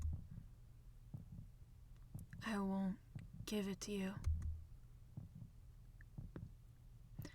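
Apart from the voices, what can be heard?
heartbeat sound effect in a horror video game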